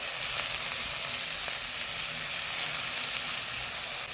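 Fresh green fenugreek leaves frying in hot oil with asafoetida and turmeric give a dense, steady hiss and sizzle, with a couple of faint spoon taps close by.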